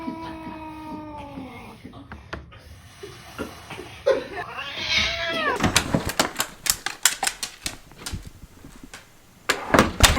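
A house cat meows and yowls at a dog to keep it from going upstairs, drawn-out cries early on, then a run of sharp taps and knocks, with a person talking nearby.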